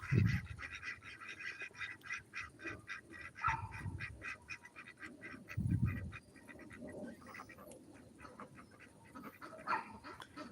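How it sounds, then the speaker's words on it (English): A female duck quacks in a series of loud nasal honks, several close bursts separated by quieter stretches of lighter calling. "That's a female quacking."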